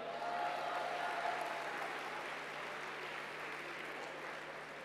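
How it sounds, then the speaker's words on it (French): Audience applause at a live debate event, steady and sustained with a dense wash of clapping throughout, slightly fading toward the end. "Merci de les applaudir."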